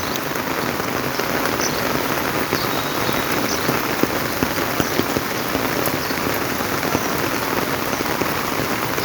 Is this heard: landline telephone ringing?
no